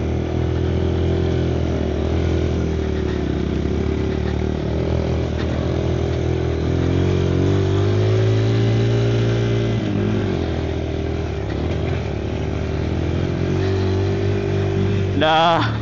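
Kawasaki KLX 230 motorcycle engine running steadily during an off-road ride, a continuous close mid-pitched drone with slight revving swells and a brief rise near the end.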